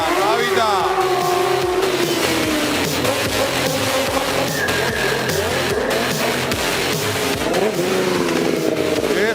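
Motorcycle engine revving loudly and continuously through a stunt riding routine by a young rider on a talent-show stage, with rising and falling pitch over a constant crowd and arena din and a voice talking over it.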